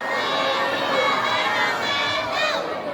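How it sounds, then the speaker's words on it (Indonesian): An audience of students cheers and claps for the first speaker at a seminar, a continuous crowd roar with shouts and high voices over the clapping. "tepuk tangan untuk Bapak narasumber kita yang pertama"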